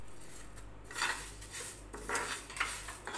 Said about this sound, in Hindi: इसे अच्छे से कम पे थोड़ी देर भून लेना है